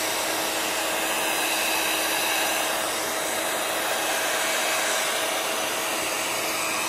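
A heat gun blasts air over alcohol ink, a loud, unbroken whooshing roar of fan and airflow held steady from start to finish, close up with no talk.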